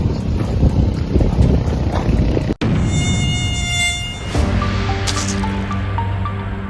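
A mosquito, the insect that carries dengue fever, whines in a steady, close, high-pitched buzz. The buzz cuts out briefly partway through, then gives way to a fainter background with thin sustained tones.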